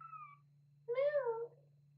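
A single high, squeaky kitten meow rises and falls for about half a second, preceded by a faint short chirp, over a steady low hum.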